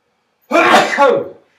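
A single loud, close sneeze lasting about a second, sharp onset then trailing off, in an otherwise quiet room.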